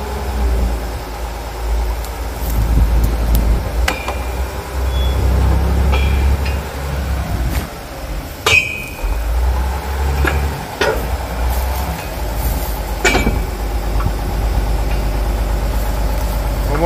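An artesian well drilling rig lowering its hammer, with a steady loud diesel engine drone and idle rumble, broken by scattered metallic clanks and short bursts throughout, recorded close up outdoors.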